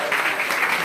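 A congregation claps at a lively church service, a short burst of applause with a voice faintly audible beneath it.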